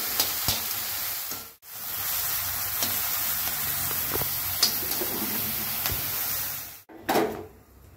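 Tamarind gravy sizzles loudly in a pan with fried onions and tomatoes, a dense crackling hiss broken by short dips and a few clinks and scrapes.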